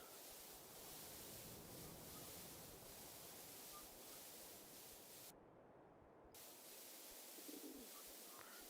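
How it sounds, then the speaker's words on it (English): Pigeons coo faintly within a steady, noisy ambience of an Australian map in Farming Simulator 22, with soft bird calls repeating through a broadband wash of background traffic and wind. "You can hear pigeons and cars on this map."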